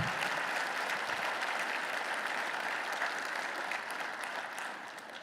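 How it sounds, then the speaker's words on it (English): Sustained applause from a conference audience at a hospital medicine meeting's opening general session, a dense, steady wash of many hands clapping that fades slightly toward the end, with no talking over it. "Please join me in giving them a well-deserved round of applause"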